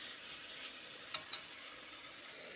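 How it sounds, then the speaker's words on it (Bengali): Spice paste stir-frying for a Bengali pumpkin curry gives a steady, soft sizzle, with two brief sharp spatula taps near the middle and no voices. "এদিকে ততক্ষণে দেখুন মশলাটা খুব ভালো করে কষিয়ে নেওয়া হয়ে গেছে।"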